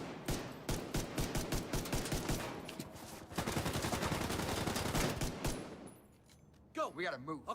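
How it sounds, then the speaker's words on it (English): Dense rapid gunfire aimed at the player in a video game, fast repeated shots in long bursts, loud and close, with a voice speaking over the end. "Are you guys actually shooting at me?"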